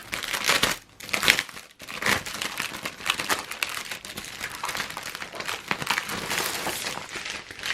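Crinkling and crumpling of a craft album kit cover being opened, a close, continuous rustle of paper and plastic packaging with brief louder crackles, no voices.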